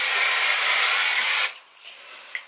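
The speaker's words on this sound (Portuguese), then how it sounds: "Passa aqui o spray." Hair spray from an aerosol can hisses loudly and steadily onto styled hair for about a second and a half, then stops, leaving faint quiet movement and a small tap.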